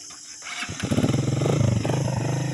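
A motorcycle's electric starter cranks briefly and the engine catches, then settles into a loud, steady, close putter that carries through to the end.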